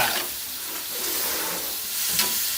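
Leftover grilled beef stir-fried with holy basil in a hot pan, continuous loud sizzling and hissing with brief stirring scrapes.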